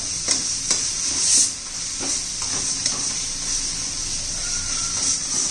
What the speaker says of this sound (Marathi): अजून एखादा मिनिटभर आपण छान असं परतून घेऊया